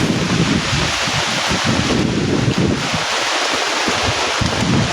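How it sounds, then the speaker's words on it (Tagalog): Loud, continuous wind roars and buffets the microphone with a dense hiss of heavy rain in a field, steady throughout with no voices. "lakas ng ulan guys"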